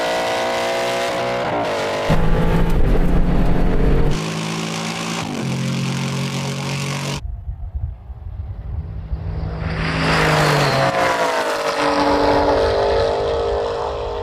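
Aston Martin race cars roar at a drag race launch, loud engines droning and revving, gears shifting in steps, then a fresh surge of rising engine noise and tire rush close by.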